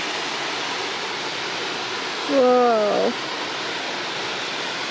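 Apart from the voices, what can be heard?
small running waterfall in a gorge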